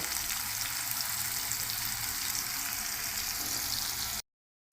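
Potatoes fry in a pan with a steady, loud crackling sizzle that holds evenly for about four seconds and then cuts off abruptly into silence.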